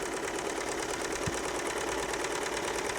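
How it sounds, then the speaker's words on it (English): A Baby Lock serger stitches down a fabric edge, giving a steady, fast mechanical whir with rapid even stitching pulses that run unbroken for the whole stretch, fairly close and alone without talk. "So I'm sewing down the edge"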